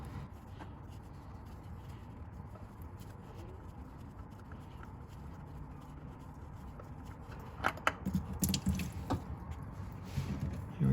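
Engine oil drips from a loosened oil filter on a Nissan Rogue with a 2.5-liter QR25DE engine, soft wet patters over a low background hum, growing into a few louder splats and squishes near the end.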